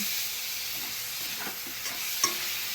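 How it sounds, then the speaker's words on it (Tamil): Onions and tomatoes for a mutton gravy sizzle steadily in a pan, a constant close hiss of frying with faint stirring scrapes and one small clink. "ஸோ ஃப்ரை ஆகிற வரைக்கும் நல்லா மூடி வதக்கணும்."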